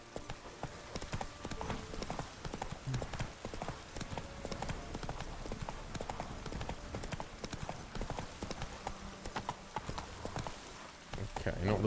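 Horse hooves gallop at a steady clip-clop rhythm in The Witcher 3, carrying the rider over rough terrain, with game sounds and occasional voice layered over the hoofbeats throughout.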